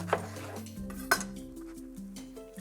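A knife cutting a grilled sausage banh mi in half on a plate, giving a few sharp metallic clinks and soft scraping taps, close and quiet, with no talk.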